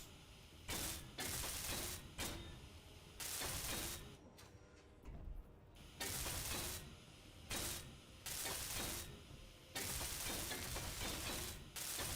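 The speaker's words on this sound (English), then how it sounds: "Need to weld up all this." Space Engineers welding tool fires in repeated hissing, sizzling bursts of about a second each, separated by short gaps, steady and fairly quiet with no voices.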